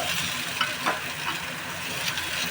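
Chopped tomato and slit green chillies stirred in a frying pan, a quiet continuous sizzle with a few soft spatula scrapes.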